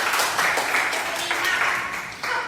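An audience in a school setting claps in a dense, steady burst of applause that fills the whole moment, with a voice talking over it.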